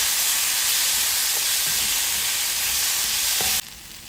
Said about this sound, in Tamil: நல்லா தக்காளியும் இதுல வதக்கி விடுங்க